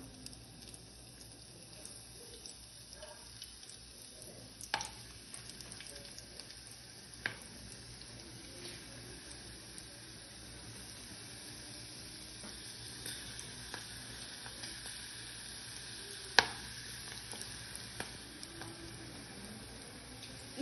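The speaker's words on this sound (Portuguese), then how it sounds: "E deixa esperar fritar para depois provar." Potato peels frying in a pan of hot oil to make chips give a steady, quiet sizzle throughout, with a few sharp pops and crackles rising above it and no talk.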